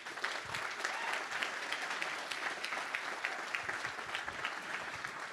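An audience at a gala fundraiser applauds the society's board members. The clapping is dense and even, fairly faint and distant, and runs throughout with no talk over it.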